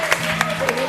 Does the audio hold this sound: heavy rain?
no